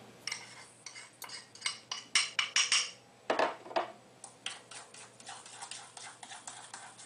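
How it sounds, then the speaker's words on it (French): Egg yolks and sugar being whisked in a bowl, with quick clinking and scraping taps of the whisk against the bowl in uneven bursts, close and fairly quiet. "Et remuez jusqu'à faire blanchir le mélange"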